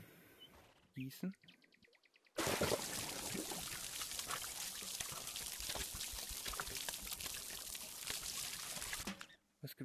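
Water pours steadily from a watering can onto plants in the VR game Garden of the Sea, a continuous splashing stream lasting several seconds after brief chirps and clicks, close and fairly loud.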